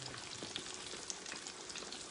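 Chicken frying in hot grease gives a steady, dense sizzle with scattered pops and crackles, close and continuous throughout, with no talking.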